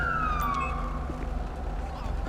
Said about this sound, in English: I need to shut my siren off is what I need to do.